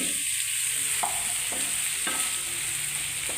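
Sliced onion tossed into a hot pan for banana-flower thoran, hissing steadily in oil while a spoon scrapes and stirs it in a few distinct strokes; close and continuous, no talk.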